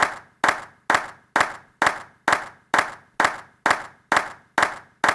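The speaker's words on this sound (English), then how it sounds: "So this is the clap in stereo straight out of the sample pack." A single stereo clap sample from a sample pack, struck about twelve times at a steady even pace, each hit crisp and dry with a short decay, alone with no voices.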